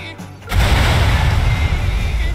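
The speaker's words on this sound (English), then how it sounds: "I'm going to have to use the bomb." A bomb blast in the video game Watch Dogs 2: a sudden loud, deep boom that breaks in after a quiet moment and rolls on as a sustained heavy rumble.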